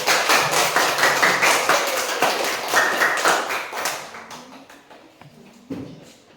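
Schoolchildren clapping hands in a classroom, rhythmic unison claps close by and fairly loud, fading into scattered lighter claps and taps toward the end.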